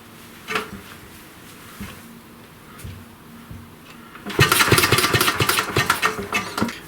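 A 1937 Briggs and Stratton Model A small engine gives a few scattered knocks, then fires and runs with a loud, rapid popping chug close by.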